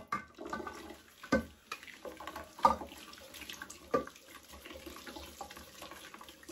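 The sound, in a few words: washing a new herbal tea pot under tap water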